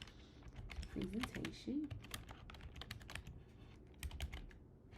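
Soft, close typing on a computer keyboard while labeling a flowchart in diagrams.net, with quick, faint key taps running throughout, and a voice briefly speaking over the clicks.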